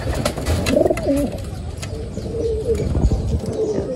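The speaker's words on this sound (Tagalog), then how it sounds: "yung hen mga kalapatids na kapares ni Salpok yan" Pigeons coo close by in a short series of soft, throaty rolling calls, with faint rustling in the background.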